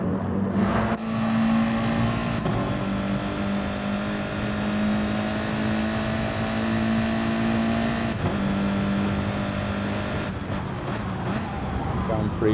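A race car engine in an Interlagos racing game drops down through the gears, steady tone broken by sharp shifts and revs, with commentary talking over it.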